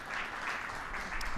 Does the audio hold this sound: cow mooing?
no